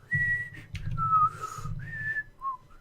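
A person whistles a short wavering tune of a few sustained notes, clear and close, with a low hum underneath and no talk.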